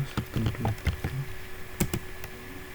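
Bursts of quick keyboard typing, a cluster of clicks followed by a few isolated taps, fairly close and quiet with no talking.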